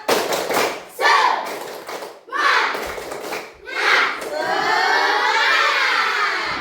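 A class of children repeats the rhythmic spirit clap in an Indonesian school, with loud group clapping mixed with shouted chanting and cheering, ending in a sustained excited crowd-like roar of young voices.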